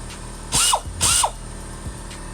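A small handheld belt sander works on the bodywork of a 1986 Honda Civic, two short loud whirring bursts in quick succession followed by a fainter third, with no talk.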